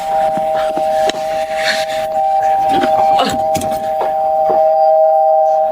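A steady electronic doorbell tone rings on and on, loud and continuous, with knocks and thumps breaking through now and then.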